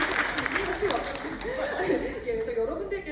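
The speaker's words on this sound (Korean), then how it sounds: "今の拍手で一気にいい気持ちになりました" Audience applause from a crowd at a film event, a steady wash of clapping with some chuckling mixed in, while someone speaks over it.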